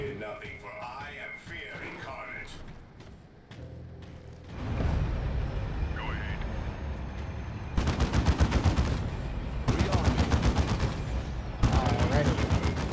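Gunfire from a Devastator squad in the Dawn of War 2: Retribution strategy game, loud rapid bursts of heavy automatic fire in repeated volleys over battle noise, following quieter game sounds at the start.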